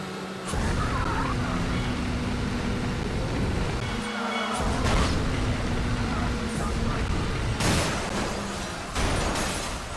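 Crash takedown in the Burnout 3: Takedown racing game: a continuous loud roar of engine and road noise with sharp bursts of impact near the end, people talking over it.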